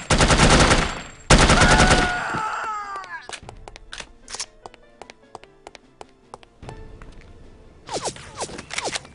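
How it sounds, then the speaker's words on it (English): Bursts of automatic gunfire in No One Lives Forever rattle loudly in two heavy volleys, then scattered single shots and impacts follow before a final burst. "Who's shooting at me?"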